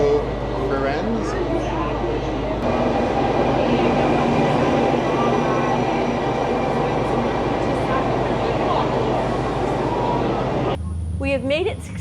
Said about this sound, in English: here comes our regional train that will take us to Firenze